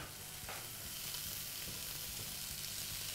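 A medium onion, finely chopped, cooks in olive oil in a pan with a soft, steady sizzle and a few faint stirring taps.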